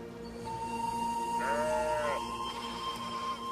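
A sheep bleats once in a drawn-out, wavering call over a faint steady hum, with no talking.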